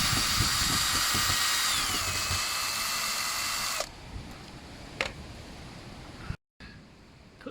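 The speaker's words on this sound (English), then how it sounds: "You're going to need the electric drill with a fine Phillips head on it, and we're going to unscrew these." Electric drill with a fine Phillips bit unscrewing the cover screws of a spa hot tub: a loud continuous whir with its pitch stepping down, then cutting off abruptly, followed by quieter clicks and a short silence.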